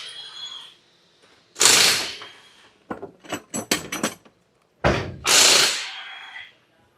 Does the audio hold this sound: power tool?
yes